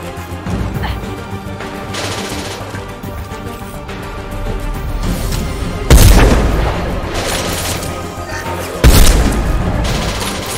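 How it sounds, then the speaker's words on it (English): Weapons fire in Mass Effect 2 combat, with a steady rumble of shooting and clatter punctuated by two heavy booming impacts, loud and close, amid a dense battle din. "Fire at will!"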